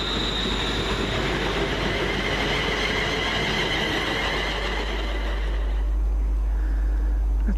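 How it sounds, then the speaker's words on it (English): A Pendolino train trundles past, a loud continuous rumble of wheels and carriages with squealing tones, its rumble thickening toward the end. "That's a rather trundling Pendolino"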